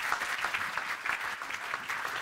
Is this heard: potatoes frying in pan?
no